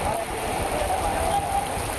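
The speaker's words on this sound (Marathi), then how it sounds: "आपण पाहू शकतो या ठिकाणी चांगला पाऊस बरसलेला आहे" Steady rain falls during a monsoon downpour in Maharashtra, a dense, even hiss of drops holding at a constant loud level throughout.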